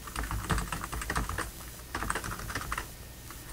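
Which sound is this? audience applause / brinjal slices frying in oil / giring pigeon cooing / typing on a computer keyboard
typing on a computer keyboard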